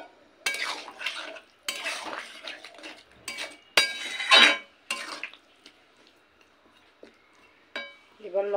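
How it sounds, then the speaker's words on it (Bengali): Vegetables for Bengali stem chochori are stirred with added water in a pan. Sporadic spoon scrapes and metallic clinks come in short bursts, separated by quiet pauses with a faint simmer. "লবণ দেওয়ার পরে জল দিয়ে সমস্ত কিছু ভালো করে নেড়ে নিয়েছি।"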